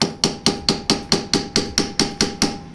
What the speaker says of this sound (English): now it's tight, I give it a little tap